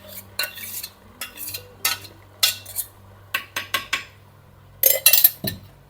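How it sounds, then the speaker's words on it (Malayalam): A spoon stirs kootu curry in a pot during Onam sadya cooking, producing a series of separate metallic scrapes and clinks against the vessel with quiet gaps between them, close and clear, with no speech. "പിന്നെ നല്ലൊന്ന് മിക്സ് ചെയ്യാം."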